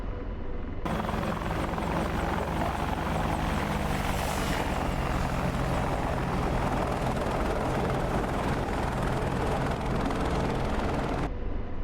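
An AH-64 Apache attack helicopter in the DCS World flight simulator holds a steady orbit, its rotor and turbine roar loud and continuous throughout with no voices over it.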